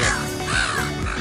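A bird caws loudly and close by at Manly Beach in Sydney, a few harsh crow-like calls in quick succession while it waits to snatch food.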